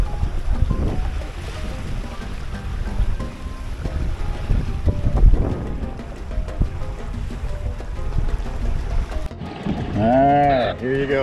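A Windrider 17 sailboat underway on open water during the Texas 200 event, with rushing wind and splashing waves throughout, loud and close, with talking over it and a different tonal sound near the end.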